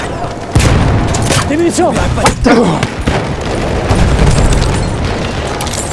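Grenade blasts and heavy combat booms in the Battlefield 1 Operations map Devil's Anvil: a loud, broadband burst near the start, then dense rumbling gunfire and explosions under shouted voices.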